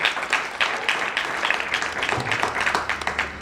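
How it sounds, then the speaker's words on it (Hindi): Audience applause at a kavi sammelan (poetry gathering) in Kishangarh marking a Mahadev temple founding, a steady moderately loud patter of many hands clapping throughout with no voices. "आपकी जोरदार तालियां इन तक पहुंचे"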